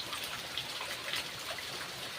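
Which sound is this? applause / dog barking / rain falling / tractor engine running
rain falling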